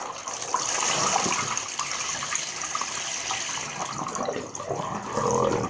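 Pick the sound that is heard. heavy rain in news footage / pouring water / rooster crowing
pouring water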